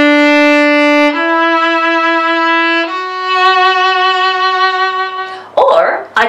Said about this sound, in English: I can use my bow to make smooth sounds like this.